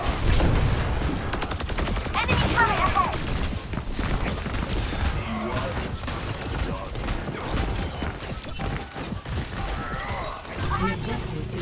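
Overwatch 2 gameplay as Lifeweaver: rapid bursts of weapon fire with sharp metallic headshot dinks and clattering effects, dense and continuous throughout, with game sounds layered over one another.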